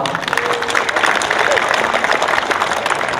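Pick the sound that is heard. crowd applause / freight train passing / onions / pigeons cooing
crowd applause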